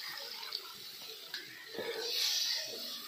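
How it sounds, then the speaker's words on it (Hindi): Water poured into frying masala in a pan for a fish curry, a steady close rushing splash that swells louder toward the end over a soft background sizzle. "इसमें पानी डाल देते हैं मसाला में,"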